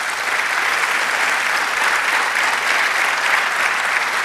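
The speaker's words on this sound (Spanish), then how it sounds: "Denle un aplauso al Señor" A church congregation applauds as a steady, dense wash of clapping that holds at an even level throughout, with no voices standing out.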